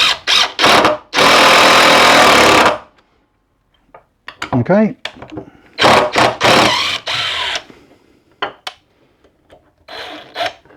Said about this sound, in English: I'm going to drill this and screw it to the bench probably.